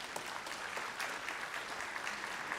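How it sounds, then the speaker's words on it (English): Graduates and guests at a spring community and technical college graduation ceremony clap together, a steady, fairly soft spread of applause from a large hall audience throughout. "give all of those folks a big round of applause"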